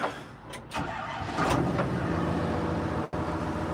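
A mini tractor engine idles steadily with a low, even chug, broken by a few brief clicks and one short dropout.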